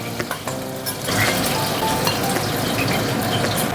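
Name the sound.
fish frying in oil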